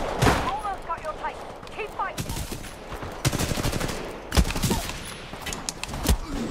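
Rapid automatic gunfire in the first-person shooter Titanfall 2, heard as repeated bursts of shots and fusillades throughout, fairly loud and close, with players talking over the action.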